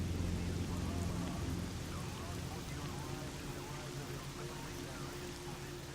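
Steady, dense rain hiss falling outside in a Fallout-like video game, with a low rumble underneath that eases after the first second or two, continuous throughout with no talking.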